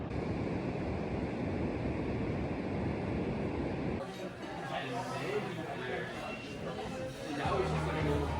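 Ocean surf washes steadily onto the shoreline at Long Beach in Tofino, a broad continuous rush mixed with wind noise, with some distant voices in the latter half.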